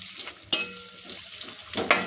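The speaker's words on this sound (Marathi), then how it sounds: "आता हे थोडं परतून घ्यायचं" Food stir-fried in a pan for a fasting-day thali, a soft steady sizzle broken by two sharp clatters of a utensil against the pan, with no talking.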